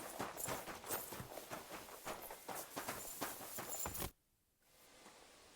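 Rhythmic clip-clop of a horse's hooves walking at an even pace in Kingdom Come: Deliverance II, close and clear, stopping abruptly and leaving quiet background.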